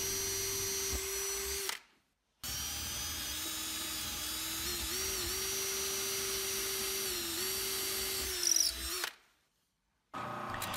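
A power drill bores handle holes into a wooden drawer front, a steady high whine sustained for several seconds, cutting off briefly and then starting again, close and alone with no talk.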